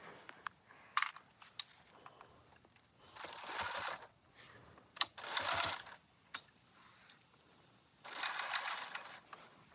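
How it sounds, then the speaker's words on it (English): A sewing machine stitches binding down on a turtle tote bag in short repeated bursts of whirring, with pauses and small mechanical clicks between runs, close and fairly quiet. "You're going to sew this down."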